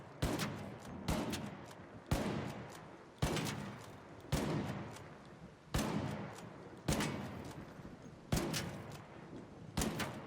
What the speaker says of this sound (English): As I shoot that hornet whilst we're waiting.